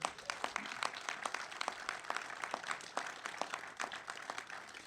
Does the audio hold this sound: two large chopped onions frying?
no